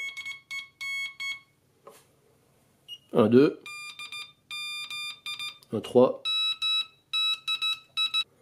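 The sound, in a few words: Morse code CW tone from superheterodyne radio receiver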